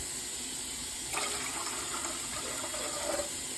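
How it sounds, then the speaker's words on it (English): Water pours steadily into a pot, a soft gushing stream that continues quietly for a few seconds. "So I'm adding 4 cups of water."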